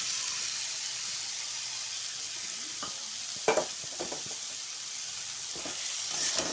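Washed papaya pieces are poured into spice paste frying in oil and stirred, with a steady close sizzle and a few scraping, clattering stirs partway through. No one speaks.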